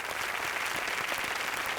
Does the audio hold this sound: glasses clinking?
no